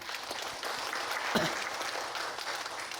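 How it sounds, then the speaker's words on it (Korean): Steady applause from a church congregation during a Sunday worship service at Hanol Church, filling the room at moderate volume with dense, continuous clapping and no talk over it. "박수 한번 쳐주세요"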